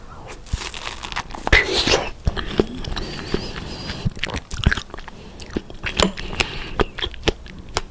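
Strawberries dipped in yogurt cream being eaten up close, with wet bites, crunches and repeated chewing and smacking in an uneven rhythm.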